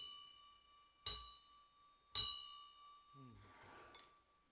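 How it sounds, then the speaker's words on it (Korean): A small church bell on a pulpit is struck twice, each strike a bright ring that decays slowly, followed by a faint third tap and a murmur of voice. "우리 강대상에 종이 있는 거 아시죠?"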